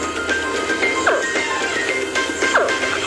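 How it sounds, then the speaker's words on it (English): A recorded baby alligator call played to lure gators, repeated short chirping grunts that rise and fall in pitch, coming twice in about three seconds over a steady outdoor background. "That's the sound of a baby gator."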